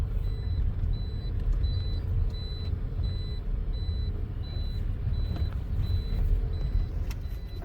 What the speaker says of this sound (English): We are in the bus station now